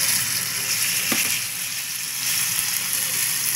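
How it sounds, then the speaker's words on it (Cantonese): Pork frying in a wok, a steady broadband sizzle running throughout at moderate level, with a brief stir or clink near the middle. "我就會炒咗啲豬肉先"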